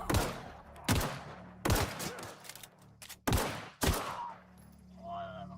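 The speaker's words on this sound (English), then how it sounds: "he's got a gun, and he's using real bullets" Gunfire from the video game The Outer Worlds: several loud, separate bursts of shots crack over a low background hum, each ringing briefly before the next, with some game tones near the end.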